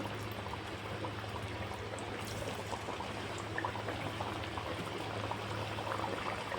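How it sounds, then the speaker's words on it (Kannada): Nippattu rice crackers frying in hot oil, a steady dense bubbling sizzle with a low hum underneath, continuous and close throughout with no talking. "ಆಯಿಲ್ ಬಿಸಿ ಆಯಿತು ಈಗ ಒಂದೊಂದು ಆ ಥರ ಆಯಿಲಲ್ಲಿ ಹಾಕೋಬೇಕು"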